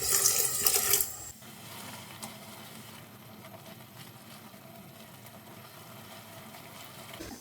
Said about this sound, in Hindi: थोड़ा सा पानी ऐड करेंगे ताकि मसाला